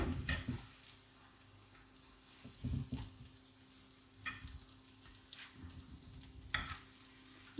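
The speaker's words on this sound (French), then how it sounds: "vous retournez vos crêpes pour qu'elles puissent cuire" Crêpes filled with chicken and vegetables fry in a pan with a steady, soft sizzle. A few louder stirring or scraping bursts stand out against it, and no one speaks.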